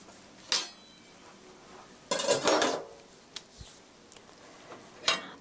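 A metal pan set down on a stove while cooking spicy tteokbokki, a sharp clank followed by a longer scraping rattle and a final clink, close and fairly loud with no talking.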